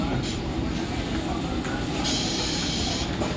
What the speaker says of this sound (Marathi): Local arrive on platform number 3 is 10 hours 14 fast local for Badlapur.